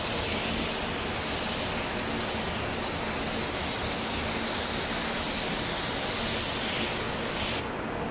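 A spray gun hisses steadily while laying clearcoat across a car bumper and fender, loud and close, then cuts off abruptly just before the end.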